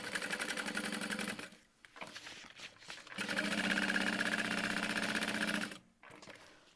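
Close and loud, a sewing machine stitches a crossbody bag in continuous runs that stop briefly a few times before starting again.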